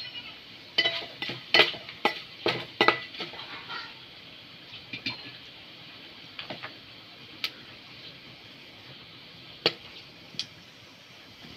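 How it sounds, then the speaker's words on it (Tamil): Ingredients for a special mutton curry being sautéed in a pan, with a cluster of sharp stirring clicks and taps early on, then sparse spoon knocks over a faint, steady sizzle. "அதையும் நல்லா நம்ம வதக்கி விட்டுடலாம்."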